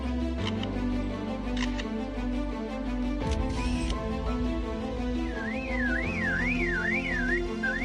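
A lyrebird mimics other sounds, giving a series of whistles, clicks and a warbling siren-like trill over a steady tonal background, close and clear.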